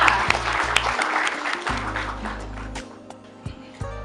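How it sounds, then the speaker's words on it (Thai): An audience at a Thai education event claps, the applause loudest at first and then thinning out, with music playing underneath. "ขอเสียงปรบมือด้วยค่ะ"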